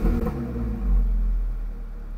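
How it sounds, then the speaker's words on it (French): A 2-litre TSI car engine, type CCZB, converted to run on ethanol, gives a short throttle blip: a deep, close low-frequency rumble that swells briefly and then settles back toward idle. "un petit coup de gaz pour le plaisir."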